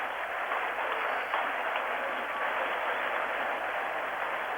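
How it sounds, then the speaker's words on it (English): Capacity cricket crowd at Gujranwala applauding a fine innings during a 1987 England v West Indies World Cup one-day match, a dense, steady wash of clapping throughout, slightly muffled and even. "Superb round of applause for a fine innings, a generous crowd, capacity crowd here"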